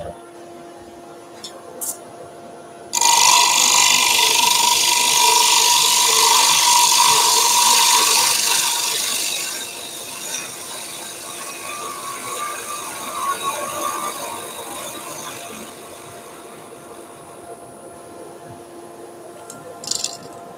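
A rough-turned wooden bowl spins on a lathe while a freshly sharpened tool cuts it. After a quiet start, a loud, steady scraping hiss of cutting runs for about seven seconds, then eases into lighter, uneven cutting over a motor hum.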